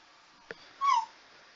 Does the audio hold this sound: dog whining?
yes